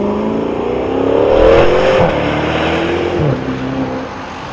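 A Maserati twin-turbo sports car engine revs up loudly and climbs in pitch through the gears, with deep exhaust roar and brief drops between shifts.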